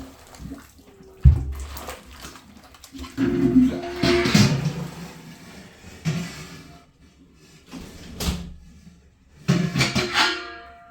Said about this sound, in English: Just pour it all in there.